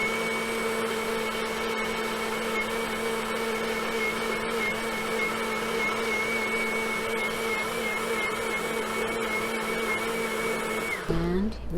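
A kitchen blender whirs steadily while blending chicken mole sauce, a loud, continuous motor drone up close that winds down sharply at the very end.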